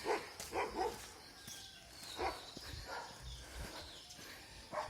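Street dogs on a road bark in scattered bursts, a few yelps near and others farther off, mixed with outdoor ambience and faint footsteps.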